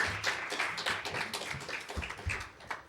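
An audience applauds speakers at an occupational hygiene symposium, a steady patter of many hands clapping at moderate volume, fairly close and continuous for about three seconds with no talking over it.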